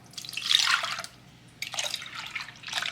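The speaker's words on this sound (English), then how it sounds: "Add 2 cups of milk into a mixing bowl." Milk pours into a mixing bowl in two close, splashy streams separated by a brief pause, bright and liquid with no talking.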